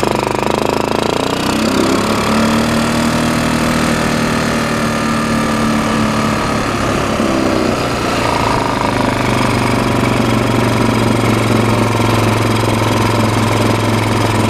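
A 2000 Kawasaki Lakota ATV engine idling after a cold start, a loud, steady, close drone with a rough knocking rattle that holds throughout with slight changes in pitch.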